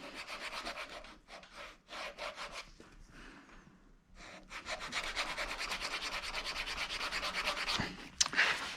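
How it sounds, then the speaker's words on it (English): Bicycle brake pads being sanded by hand during a tune-up, a steady rasping scrape in repeated back-and-forth strokes with a brief pause midway, close and fairly loud. "I'm sanding them down"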